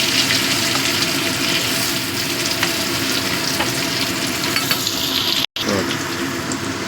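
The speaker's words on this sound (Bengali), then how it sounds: "আর এগুলো একটু ভেজে নেবো লাল লাল করে" Oil sizzles and crackles steadily as potatoes fry in a pan, a dense continuous hiss broken only by a brief silent cut.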